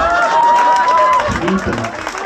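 A stand-up comedy audience at Ludo Bar og Scene in Harstad claps in a loud, dense burst of applause that swells in and continues under a voice.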